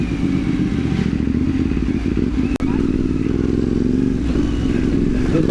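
A 450 cc trail motorcycle runs steadily up close on a rough mountain trail from General Nakar to Umiray, Philippines, its engine droning loudly and continuously with some clatter and one sharp thud midway.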